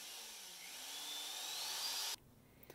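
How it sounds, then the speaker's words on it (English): A small pilot hole is drilled into a 3-inch PVC end cap, a steady high whine that slowly rises in pitch for about two seconds, then cuts off abruptly into near silence. "I started with drilling a small pilot hole into a 3-inch PVC end cap"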